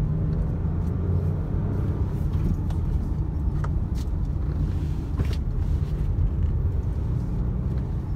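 A Mahindra XUV300 petrol SUV pulls in third gear through light traffic, its engine and road noise forming a steady, close, full-bodied rumble that barely varies, with a few faint ticks and no voices over it.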